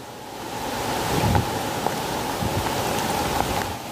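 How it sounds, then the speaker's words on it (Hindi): Rain falls steadily at a temple beside a waterfall, a dense continuous hiss with rushing water underneath and a few faint taps, and no voices. "बारिश भी हो रही है साथ के साथ।"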